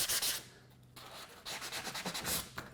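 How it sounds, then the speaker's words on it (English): Hand sanding down a rough edge during a DIY kitchen renovation, with close, steady rasping strokes in repeated bursts, the last ones quicker and more rhythmic, with no voices. "Just getting the rough edge sanded down."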